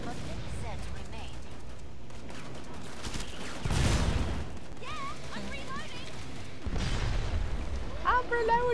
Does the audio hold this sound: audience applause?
no